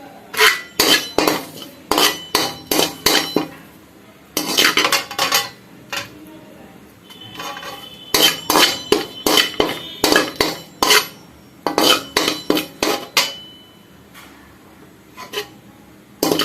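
A metal utensil clatters and scrapes in a pan while curry leaves fry for homemade rasam powder, giving repeated close, bright clinks in quick bursts separated by short pauses.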